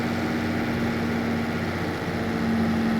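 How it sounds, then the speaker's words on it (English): A 115-horsepower Zetor tractor engine runs at a steady idle, a constant low mechanical drone with a humming tone, close and unbroken. "the engine that is in this one is classified with 115 horsepower. Sounds very good, basically, like a very powerful tractor."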